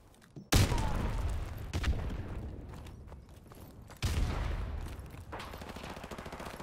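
A Scorpion gun firing in a Modern Warfare Remastered multiplayer match, two loud bursts of rapid automatic fire that each trail off into shorter shots and game ambience.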